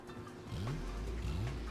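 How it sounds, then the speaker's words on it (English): Video game car engine in Pokémon XD: Gale of Darkness rumbles and revs as the car drives off, with rising pitch sweeps, fairly close and steady, no talk. "That's a weird looking car."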